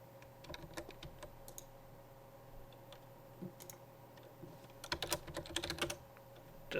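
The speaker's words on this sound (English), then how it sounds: "Just had to finish typing it." Fingers type on a computer keyboard during a Minecraft play session: light, irregular key clicks that are sparse at first, then a denser, louder flurry of tapping near the end.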